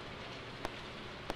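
Rain falls steadily in the video game Stardew Valley, a soft, even patter throughout with two faint taps standing out.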